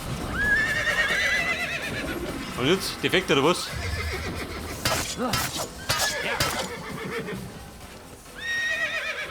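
In the Assassin's Creed video game, a horse whinnies and snorts repeatedly while hooves clip-clop, along with brief crashing noises, as someone talks in German over the game sounds.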